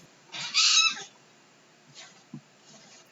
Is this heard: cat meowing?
yes